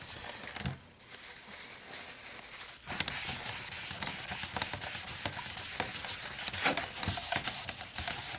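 Plastic PC case faceplate being hand-sanded during refurbishing, a steady close-up rubbing rasp with stroke bursts running through the whole stretch.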